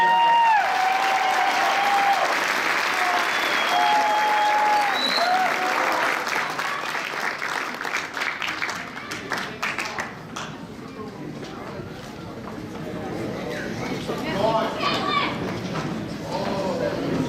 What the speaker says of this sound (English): Give our seniors one more round of applause, guys.